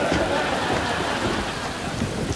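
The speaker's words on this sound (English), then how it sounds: "it's still raining." Steady rain pouring down with a low rumble of thunder underneath, a dense continuous wash of noise with no talking.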